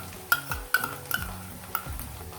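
Chopped vegetables being sautéed in oil for baby corn Manchurian: a soft, quiet sizzle under several distinct spoon knocks and scrapes against the pan, spaced roughly half a second apart.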